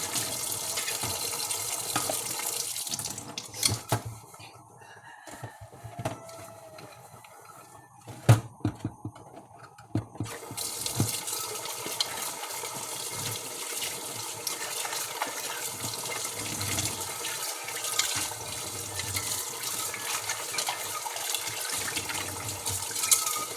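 Tap water runs over something being washed in a sink, a steady close splashing rush that briefly drops away then resumes strongly, with handling clatter.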